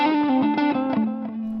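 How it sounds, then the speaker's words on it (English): Electric guitar with distortion and chorus effects plays a short slide figure in a blues style, a sustained tone gliding between close, loud pitches with a few picked attacks. "So you're just going to slide."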